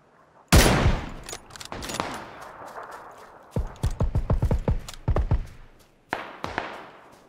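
Gunfire in an online battle video game: a sharp opening shot, scattered single shots, then a rapid burst of close, loud rounds and a final short volley.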